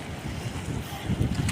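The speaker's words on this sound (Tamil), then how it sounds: "சரியான காற்று." Strong wind buffets a boat at sea, a steady roaring rush over the microphone with the swell of waves beneath, with no voices.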